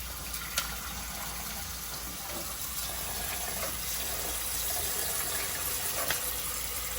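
Steady running water splashes close by as oxtail is washed with lime juice in a sink, a continuous moderate gush with faint clinks and no talk.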